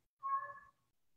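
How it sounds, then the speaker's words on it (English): A cat cries at a door with a single drawn-out meow of moderate loudness that fades away, followed by near silence. "I can hear my cat crying at the door"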